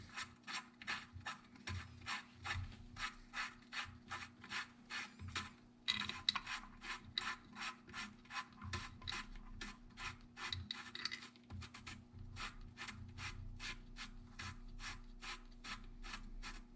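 Bolts being tightened on the sump cover of a Briggs & Stratton 6R6 engine with a hand ratchet, giving a steady run of rapid rasping clicks repeated at close range for the whole stretch, with a brief pause midway.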